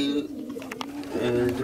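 Racing pigeons of the Limburg line cooing in a pigeon loft, soft low coos under conversation, with a voice talking nearby.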